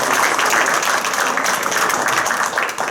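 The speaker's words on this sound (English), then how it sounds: "Everyone clap out." An audience at a borough council meeting claps steadily throughout, a dense and loud round of applause with no break.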